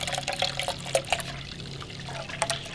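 Water runs from a beer line tap during line cleaning, a steady trickling, splashing pour close by with small gurgles, and no voices.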